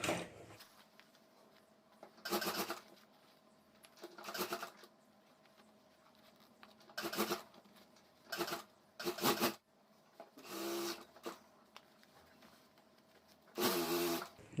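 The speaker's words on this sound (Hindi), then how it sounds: "यहाँ से हमें सिलाई शुरू करनी है, तो यहाँ से मैं सिलाई शुरू कर देता हूँ" Bursts of a sewing machine stitching fabric for a homemade school bag, several short runs of a few seconds each separated by quiet pauses, close and moderately loud.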